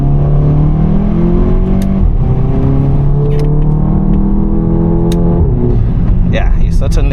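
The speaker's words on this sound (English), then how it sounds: "That blow off noise is so addictive." A tuned VW Golf 7.5 GTI pulls hard on an open road, its steady engine drone climbing in pitch as it accelerates. A short airy hiss near the end suggests the blow-off valve venting.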